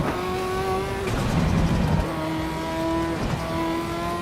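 A race car engine in the video game Assetto Corsa Evo, loud and close, revving high with steady pitched whine, dropping briefly on quick shifts and climbing again, with a gritty tire and road rumble beneath.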